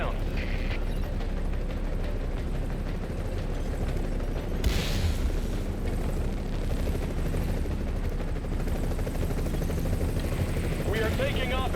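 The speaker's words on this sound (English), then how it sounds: "Okay, we're putting the chopper down." In The Division 2, a helicopter sets down during an evacuation with a loud, steady rotor thrum, gunfire and bursts around it, and voices talking over the noise.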